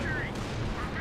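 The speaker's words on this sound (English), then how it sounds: "Artillery is coming down, and it's more of the high explosive shells." High-explosive artillery shells land in a Company of Heroes 2 match, a 4v4 battle on Hill 400: dense, continuous rumbling booms and gunfire, loud and steady throughout, with a commentator's voice partly mixed in.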